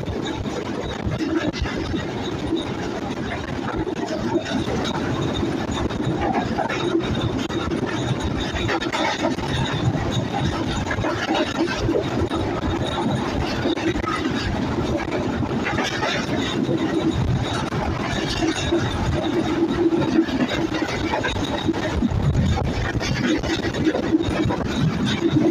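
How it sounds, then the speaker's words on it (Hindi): A continuous rumbling train ride from Rawalpindi to Lahore as the train curves left, with rattling wheels on track and occasional faint squeals, steady and loud throughout. "अब देख लें गाड़ी घूमती जा रही है, लेफ़्ट मुड़ती जा रही है"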